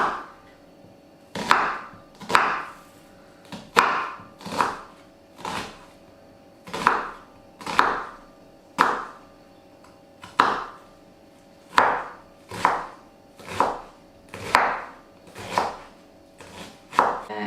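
A knife chops through an onion on a cutting board in a kitchen, about sixteen crisp, evenly paced cuts spread over the stretch, each a sharp knock on wood, with no talking.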